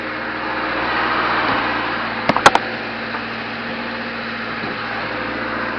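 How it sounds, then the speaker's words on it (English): 2013 Subaru Crosstrek engine running at a steady idle, a low even hum throughout with a quick cluster of sharp clicks midway. "Engine runs great, looks great."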